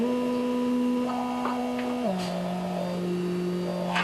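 A steady tone from a Bastl Kastle synthesizer with a buzzy, phase-distorted edge holds one pitch, then drops lower halfway through, with faint clicks layered on top.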